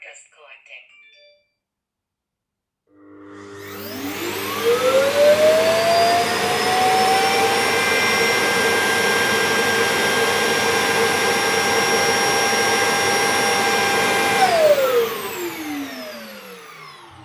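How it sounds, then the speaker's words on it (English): A Neabot robot vacuum's self-emptying dock runs its suction motor loudly for about twelve seconds. It starts with a rising whine, holds a steady roaring hum, then spins down, with brief faint sounds before it begins. "the vacuum within that station will then suck out all of the dust and the debris that it's managed to collect"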